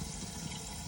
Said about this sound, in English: and the toilet system's filling